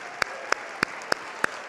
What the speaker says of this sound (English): Would you please stand, all of your colleagues from VetMed, and take applause?